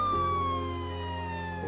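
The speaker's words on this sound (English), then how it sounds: "Suddenly, outside, they hear the sound of a siren." A police car siren wails steadily, its tone sliding slowly downward as it passes, loud and continuous over a low engine rumble, with no talk.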